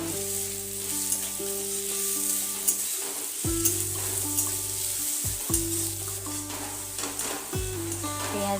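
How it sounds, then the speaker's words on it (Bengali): Onions sizzling and frying in a pan for a snail curry with potatoes, a steady close crackle with stirring scrapes and clatter throughout, no talking. "পেঁয়াজ ভাজা প্রায় হয়ে গেছে।"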